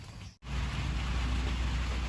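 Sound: rain falling

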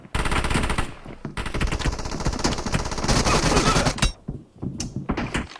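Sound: UMP submachine gun firing in PUBG Mobile, a video game

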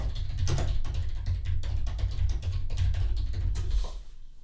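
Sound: typing a search on a computer keyboard

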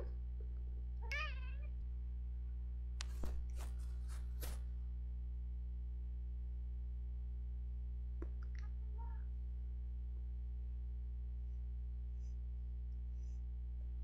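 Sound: cat meowing quietly

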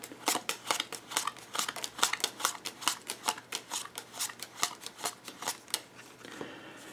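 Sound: dealing playing cards from a deck

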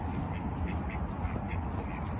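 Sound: duck quacking

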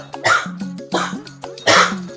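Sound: cough

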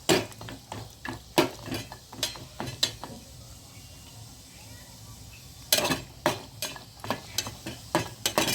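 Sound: whole turmeric root frying lightly in a pan

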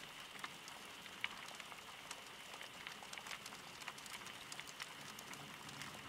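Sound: rain on window

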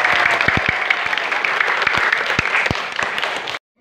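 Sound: audience applause

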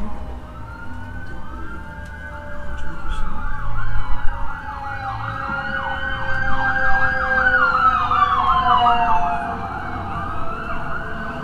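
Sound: siren sound effect on a baseball broadcast

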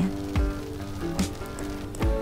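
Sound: persistent rain from a storm

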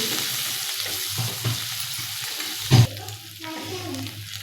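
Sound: spices and red chilli powder being sautéed in a pan

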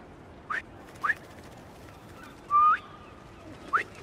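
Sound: pigeons cooing in video game Marvel's Spider-Man 2

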